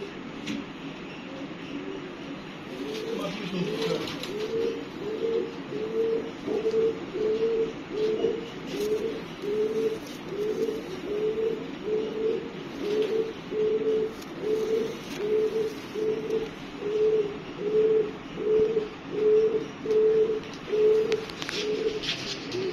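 A young pigeon coos in a steady, rhythmic series of soft, low calls, repeating about once a second close by for over twenty seconds.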